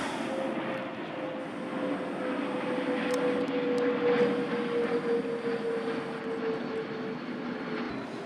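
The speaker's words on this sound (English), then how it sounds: "The planes come pretty close to this place." A low-flying airplane drones steadily overhead across the grounds of the Bartonville asylum in Peoria, a continuous engine rumble that swells slightly in the middle and carries on without a break.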